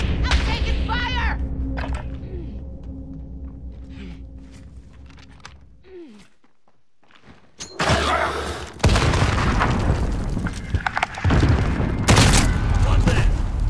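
Video game combat with crackling gunfire and booming explosions, loud and close, fading briefly into near silence before erupting again in dense, continuous bursts; voices talk over parts of it.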